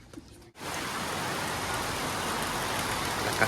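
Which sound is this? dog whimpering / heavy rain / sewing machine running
heavy rain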